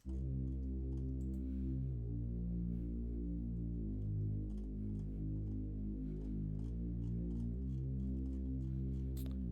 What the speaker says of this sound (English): like the Reese bass from the intro